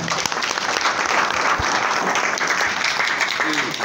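An audience applauds at a workshop gathering, a steady dense wash of clapping holding at even loudness throughout with no gaps.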